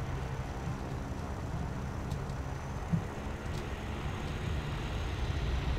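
An IL-2 Sturmovik ground-attack aircraft in War Thunder flying at high airspeed, a steady low roaring rush of engine and wind that stays even and loud throughout, with no talk.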